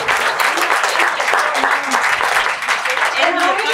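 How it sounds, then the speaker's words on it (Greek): Sustained audience applause at an All4baby parenting event in 2024 fills the room, dense and loud from start to finish, with the crowd clapping steadily. "Μεγαλύτερο χειροκρότημα γι' αυτό, γιατί όλες αξίζουν πολύ."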